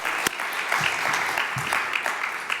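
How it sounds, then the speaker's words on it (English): A conference audience at a New Zealand game developers' talk applauds, a steady, even patter of many hands clapping, with a couple of louder individual claps standing out near the front. "I'd love us to give a clap for someone making an awesome New Zealand horror game."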